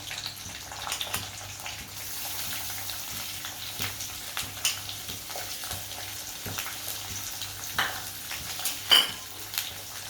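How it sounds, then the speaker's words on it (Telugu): Green chillies and onions fry in oil with a soft, continuous sizzle, close by but fairly quiet, punctuated by occasional light clinks of a utensil against the pan. "బాగా వేగిన తర్వాత మనం పచ్చిమిరపకాయలు వేసుకోవాలి. తర్వాత ఉల్లిపాయలు వేసుకోవాలి."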